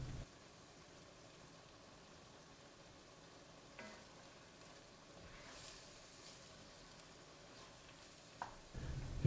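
Meat searing in a pot for chili mac, a soft steady sizzle and hiss at low volume with occasional stirring scrapes and clinks.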